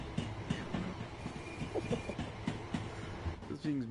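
A Class 377 electric multiple unit in Train Sim World 2 runs as a twelve-coach train, with rhythmic clickety-clack wheel beats and a rising motor whine near the end, partly under a voice.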